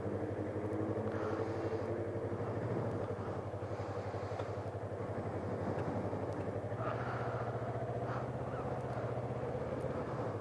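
A 2019 Yamaha MT-25 motorcycle engine running steadily at idle, a smooth even hum close by that stays constant throughout.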